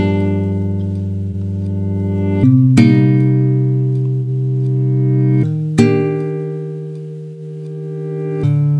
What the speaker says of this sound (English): perpetual sound kind of thing, so the sound of the guitar doesn't die out as much